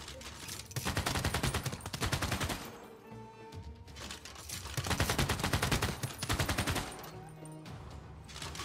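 Rapid machine-gun fire rattles in long sustained bursts as units attack a tank in the strategy game Civilization VI, loud and dense with brief pauses between volleys.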